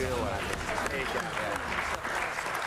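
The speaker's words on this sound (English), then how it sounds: "round of applause for that bloke" Brief burst of clapping from a small group of people after a rugby league discussion, a dense patter of hand claps mixed with a voice speaking over it.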